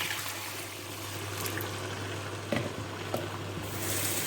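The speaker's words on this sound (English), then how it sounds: "I'm going to add in some water." Water trickles and pours into a pot where plantain has been frying, with soft sizzling underneath; a steady, moderate wash of liquid sound with a couple of small splashes, no voices.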